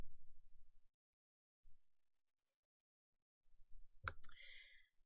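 Computer mouse clicks during navigation of an online ordering page: a few soft, brief clicks in otherwise near-silent, faint surroundings, with one sharper click near the end.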